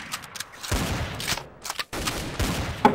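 Rapid bursts of gunfire from the video game Trouble in Terrorist Town, loud clustered shots in quick succession with brief pauses between volleys, heard alone without talk.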